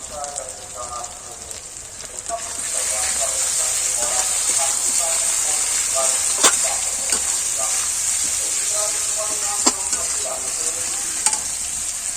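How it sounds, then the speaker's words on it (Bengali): Food is stirred and fried with salt in an oiled pan, a loud, steady sizzle that grows fuller after a couple of seconds, with repeated scraping strokes and occasional sharp clinks of the spatula. "এটাকে আমি ভালো করে একটু নাড়িয়ে নেবো"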